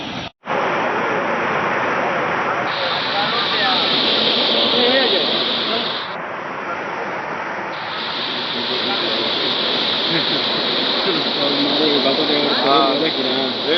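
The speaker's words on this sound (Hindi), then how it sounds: "आप लोग देख सकते हैं यहाँ पर ये पूरा गांव तबाही में है, बहुत तेज पानी आ रहा है इधर से।" Floodwater from a breached dam rushes through a village as a loud, continuous broadband roar, with people talking over it throughout.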